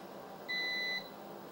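A Huawei solar inverter gives a single clear electronic beep, about half a second long, after being cut off from the grid. Faint room hum sits under it.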